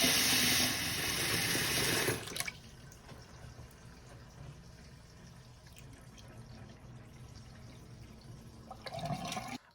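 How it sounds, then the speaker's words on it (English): A bathroom sink tap runs hard with a loud, steady rush of water for about two seconds, then gives way to quieter trickling and dripping in the drain. The flow briefly picks up again at the end. "Turn some water on and look for leaks."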